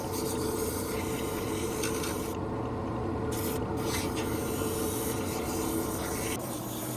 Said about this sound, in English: so frequently you'll probably need to stop sanding and use a magic eraser